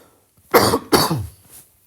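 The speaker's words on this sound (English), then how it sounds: "apologies for my cough" Two sharp, close coughs in quick succession, loud and alone, then quiet.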